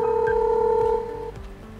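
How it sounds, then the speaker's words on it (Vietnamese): A Dahua video intercom indoor monitor rings with a steady electronic two-tone chime, loud and close, holding for about a second before fading out. "Khi bấm vào biểu tượng nút chuông thì màn hình ở trong nhà sẽ đổ chuông."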